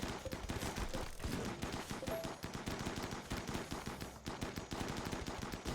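Video game gunfire rattles in rapid, sustained automatic bursts, close and dense, with only brief pauses between volleys.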